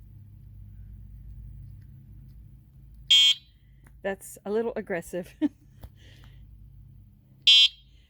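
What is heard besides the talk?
electric bike warning beeper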